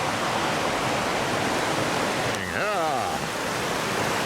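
A stream in the Grand Canyon rushes with a steady, broad hiss of flowing water, and near the end a voice briefly calls out over it.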